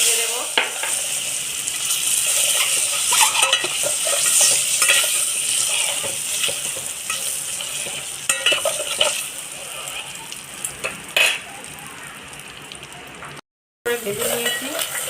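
An egg frying in oil with chili powder, turmeric and salt, a steady loud sizzle broken by stirring and scraping strokes in the pan, with one brief dropout near the end.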